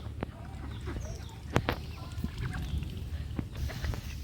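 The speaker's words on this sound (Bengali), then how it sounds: "আমার এই পায়ে পায়ে ঘুরছে দেখো হাঁসগুলো" Domestic ducks and ducklings milling around a person's feet at feeding time outdoors after rain, with scattered short quacks and honks close by over a steady background murmur.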